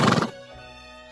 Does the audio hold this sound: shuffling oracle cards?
no